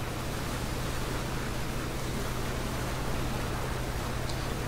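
Boat travelling upriver in PlayerUnknown's Battlegrounds, a steady, even rush of water and engine hum with a low drone throughout, continuous and fairly loud with no voices.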